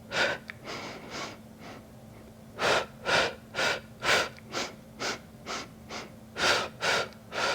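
Heavy rhythmic breathing during an intermediate Pilates exercise with disc and band, a run of about a dozen forceful breaths, close and loud, alone without talk.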